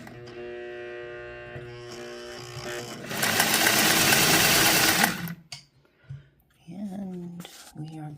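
A Singer 401A Slant-o-Matic sewing machine running a zigzag stitch: a steady, close mechanical whir that swells into a loud, rapid rattling run, then stops as a voice begins talking.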